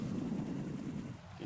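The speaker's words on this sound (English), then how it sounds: "You can hear the drones out there." A low, steady rotor-like hum of a hovering Cypher surveillance drone in Metal Gear Solid 2 drones on faintly and continuously, with no other sounds.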